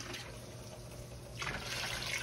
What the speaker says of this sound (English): Now we're gonna add our pork stock to this.